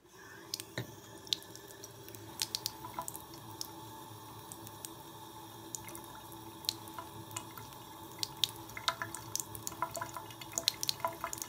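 Water from a tap trickles and drips while a fresh tattoo is dampened before washing, a quiet, uneven stream broken by small splashes and wet squishes, with no one talking.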